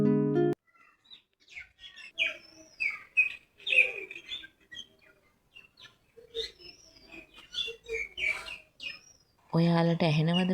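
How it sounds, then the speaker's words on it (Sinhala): Birds in a garden chirp and tweet in quick, varied bursts, some calls clear and close, with short gaps between phrases. A voice speaks briefly at the start and again at the end. "ඔයාලට ඇහෙනවද මේ කුරුල්ලන්ගේ සද්දේ?"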